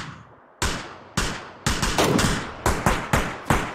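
Gunfire in the video game PUBG: a burst of about nine loud, sharp shots in uneven rhythm, some spaced and some in quick pairs, each trailing off in a short echo.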